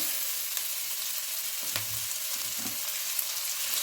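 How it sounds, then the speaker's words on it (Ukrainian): Steady, close sizzling crackle of pork fat and onion frying in a pan, a continuous hiss with faint stirring sounds. "Сало шкварчить, смажиться, аромат просто фантастичний"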